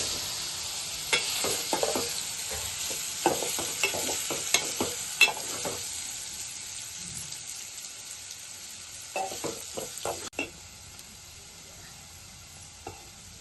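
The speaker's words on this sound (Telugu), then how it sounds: "మనం కలుపుకున్న కారం, పసుపు, సాల్ట్ కలుపుకున్న పన్నీర్ ముక్కలు వేయించుకుందాం" Spiced paneer pieces coated in chili powder, turmeric and salt fry on a low flame in a pan, giving a steady sizzle broken by scraping stirs and clinks in uneven bursts. No one speaks.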